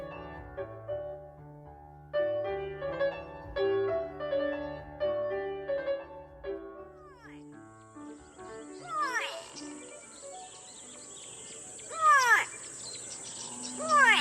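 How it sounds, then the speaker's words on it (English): Bright, sweeping calls of a gray go-away bird ring out with insect buzz behind them, after a stretch of soft piano-like tones. "That's a gray go-away bird."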